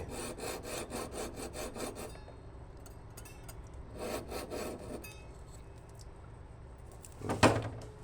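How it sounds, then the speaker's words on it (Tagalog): Sandpaper rubbing a metal ID bracelet to smooth out file marks, in quick rhythmic back-and-forth strokes in two bursts, followed by a brief louder scrape. "Para po matanggal po yung ibang tama, lilihain na po natin."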